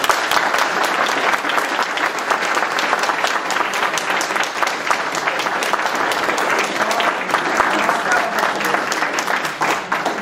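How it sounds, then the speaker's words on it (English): A debate audience for a New Jersey District 23 Senate race applauds the candidates with dense, steady clapping that holds at an even level for about ten seconds. "I think we'd like to all give it a round of applause to the candidates"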